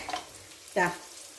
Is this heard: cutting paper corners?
no